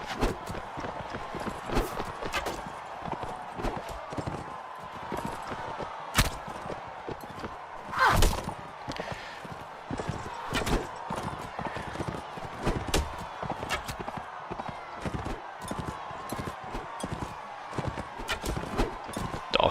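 Horse galloping in Mount and Blade: Warband during horseback archery, rapid repeated hoof thuds in a steady driving rhythm, close and prominent, with sharp game impact sounds scattered through.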